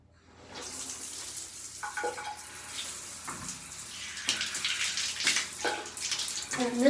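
Shower water runs continuously while a cat is washed, a close, steady splashing rush that swells and shifts as the spray moves.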